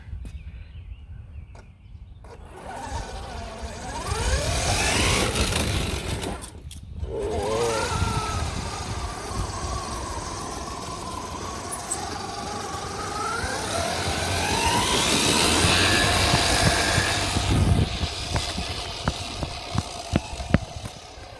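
A 1/5 scale RC crawler with a 997 brushed motor on 36 volts whines at full throttle in high gear, a rising electric motor note over gear noise, with a brief cut and then sustained running.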